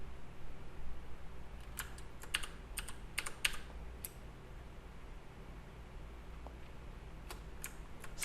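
Computer keyboard keys pressed while modeling in 3ds Max: scattered quiet clicks in small clusters over a low steady room hum, faint and close, with no one talking.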